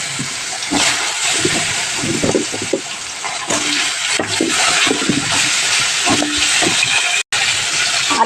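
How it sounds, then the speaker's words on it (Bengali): Potato pieces frying in hot mustard oil with dried red chilli, two bay leaves and nigella seeds for a rohu fish curry, giving a steady, loud sizzle and hiss with scattered pops and clatters close by. "এবার আলুটাকে ভেজে নিতে হবে"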